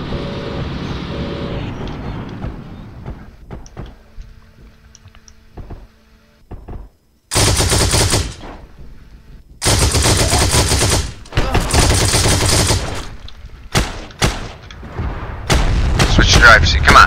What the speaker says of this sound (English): Is our own teammate firing at us?